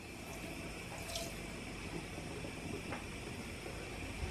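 A litre of water is poured into a pot to make a marinade for pickled porcini mushrooms, giving a faint, steady rush of flowing water with no talking.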